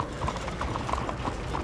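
Horse hooves clip-clopping at a steady walking rhythm in Red Dead Redemption 2, a run of evenly spaced clops close by over a soft background bed.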